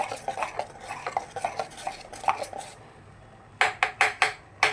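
A utensil scrapes and taps through a pot of melting homemade soap mixture, quick irregular clinks for a few seconds, a brief lull, then a run of louder, sharper knocks, close up with no talking.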